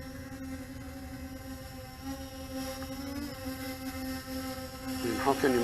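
A small MJX Bugs 3 Pro quadcopter drone hovers and comes in to land, giving a steady, high buzzing whine of its rotors with harmonic tones that shift slightly as it manoeuvres, louder toward the end as it touches down.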